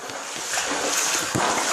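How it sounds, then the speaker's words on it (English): Footsteps wade and splash through flood water in a flooded basement, a continuous close sloshing and splattering with no talk. "I'm walking through water."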